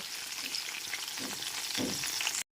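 Pointed gourd (potol) frying in oil over a medium gas flame, a steady close sizzle with a few soft stirring thumps, ending in abrupt silence.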